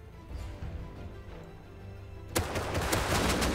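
Gunfire in the video game Rust, sounding as a dense burst of rapid shots that breaks in suddenly partway through after a quiet stretch of low ambient rumble.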